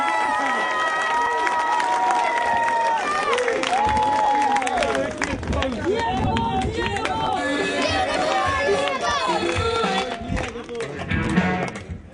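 A standing crowd at an office inauguration gathering applauds and cheers to welcome an arriving guest, loud dense clapping with shouts and chatter throughout, tapering off near the end.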